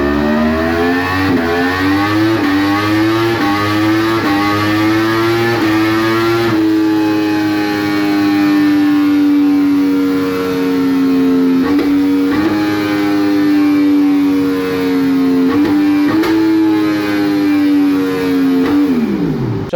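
Yamaha R1 sport bike fitted with an Akrapovic slip-on exhaust and replacement pipe, engine revving up and down in repeated blips, then holding a steady high rev before dropping; loud, close and continuous with no talking.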